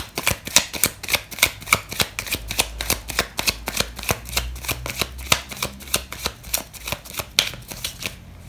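A deck of tarot cards being shuffled by hand, a steady run of fast, close riffling bursts repeating in even rhythm for several seconds with no voices.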